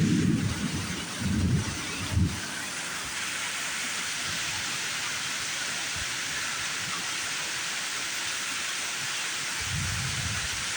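Heavy, steady rain pours throughout a severe thunderstorm with high winds and flooding roads, with low thunder rumbles in the first two seconds and again near the end; no one speaks.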